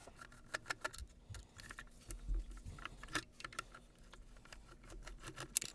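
Small tools working screws out of the chassis of an MTH GP-9 model diesel locomotive give faint, scattered metallic clicks and light taps over a quiet background, with no one talking.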